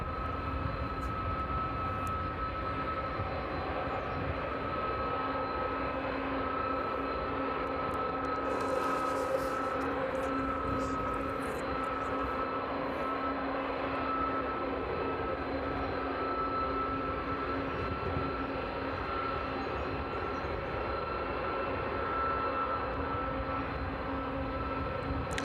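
An Airbus A300 descends toward runway 27 at East Midlands Airport in the evening, giving a steady, distant engine roar that holds evenly throughout.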